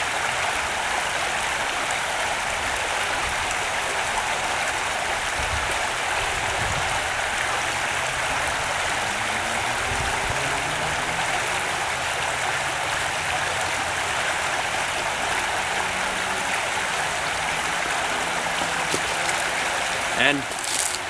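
River rapids rush in a steady, loud, broadband roar that fills the whole stretch, with someone talking faintly underneath now and then and a brief knock near the end.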